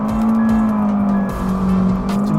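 An Abarth Rivale accelerates hard from 0 to 100 km/h on a closed road, its engine droning loud and steady from inside the cabin, with a faint squeal riding over the roar.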